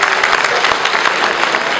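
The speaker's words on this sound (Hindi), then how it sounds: "जोरदार ताली।" Loud, dense applause from a crowd at a state education award ceremony, continuous and steady throughout, close and full.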